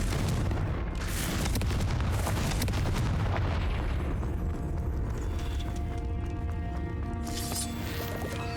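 Confringo blasting curse explosions in Hogwarts Legacy, heavy continuous booming blasts and rumbling debris filling the whole stretch, loud and dense, with game sounds layered underneath.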